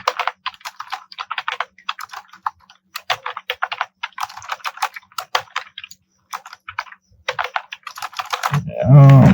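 Quick bursts of keystrokes on a computer keyboard as code is typed, irregular clusters of close, crisp clicks with short pauses, ending in a brief low thump.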